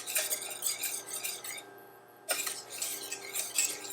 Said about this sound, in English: So I just like to whisk it so the bottom doesn't get burnt